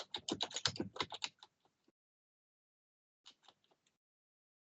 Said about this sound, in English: then I'm typing in, this is the first paragraph